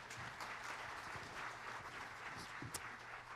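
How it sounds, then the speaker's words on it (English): Steady, faint applause from a school audience for middle school choir students at a fall concert, a continuous even wash of many hands clapping heard from a distance. "Give them a round of applause."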